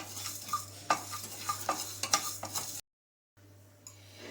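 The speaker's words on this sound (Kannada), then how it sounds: "ಈಗ ಧನಿಯಾ ಹುರಿತಿರೋ ಹಾಗೆ" Coriander seeds dry-roasting in a pan, stirred in a run of light, rhythmic scrapes and rattles, a brief silence, then quieter roasting resumes.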